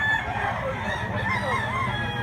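A rooster crows close by in a long, drawn-out call, with clucking fowl and other farm sounds around it.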